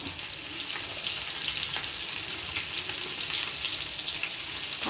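Salt and turmeric fry in hot oil in a pan for a homemade green chicken dish, giving a steady, close sizzle with light scraping and stirring throughout and no talking.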